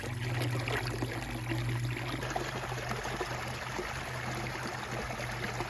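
A rain-swollen creek on a homestead flows steadily with a soft, continuous rushing and trickling, faint and even throughout, with a low hum beneath.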